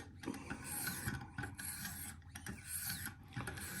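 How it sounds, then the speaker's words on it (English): A Spyderco Yojumbo wharncliffe blade is being sharpened on a Wicked Edge system, with close, steady rasping strokes of stone on steel repeating in an even back-and-forth rhythm, no voices present. "I'm pretty much done sharpening this knife"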